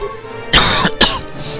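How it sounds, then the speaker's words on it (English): A single person coughs twice in quick succession, close and fairly loud, followed by a faint throat clear in an otherwise quiet room. "Sorry, bit of a cough"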